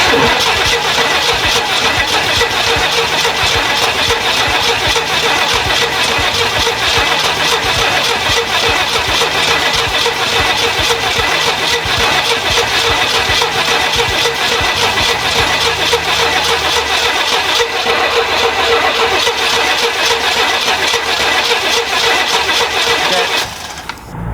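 The engine of a 1967 Jeepster cranks on the starter continuously for over twenty seconds, a loud, steady, rhythmic churning close by that never catches, then stops abruptly.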